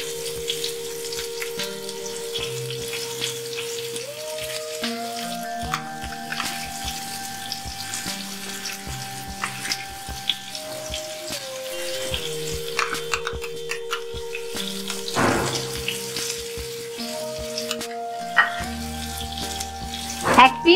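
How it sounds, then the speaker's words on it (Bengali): Hilsa fish roe fritters fry in a pan on a low flame, a steady soft sizzle and bubbling hiss that runs throughout, with faint clinks and a few louder crackles, under steady background music. "আমি লো ফ্লেমে ডিমগুলো ভালো করে বড়াগুলো ভেজে নিচ্ছি।"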